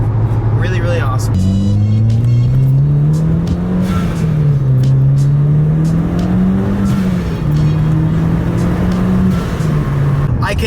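A Mitsubishi Evo X with a straight-piped exhaust drones loud and throaty from inside the car. Engine pitch rises and dips in slow waves as it revs and cruises. A voice talks over the constant roar.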